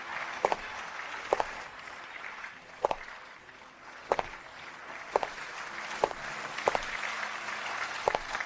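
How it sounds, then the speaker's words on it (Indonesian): Audience applause greets a contestant, Miss Mawar Putih, being welcomed onstage. It is a steady, fairly soft wash of clapping broken by sharper, regularly spaced hits, with no voices over it. "Mari kita sambut dengan tepuk tangan meriah."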